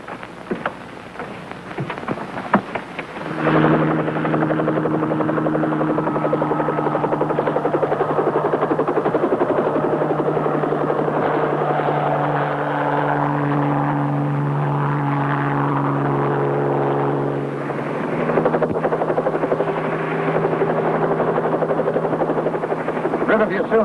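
A helicopter's engine and rotor drone loudly and steadily for most of the stretch, a close continuous roar with shifting pitch, under voices talking.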